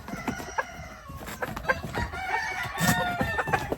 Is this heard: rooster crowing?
yes